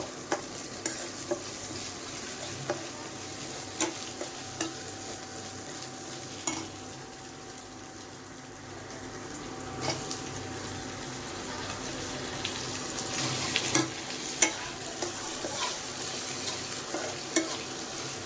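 Chopped tomatoes go into a pan of well-fried spices for homemade matar ghugni, stirred with a steady, close sizzle and scraping under light kitchen clatter, with no talking.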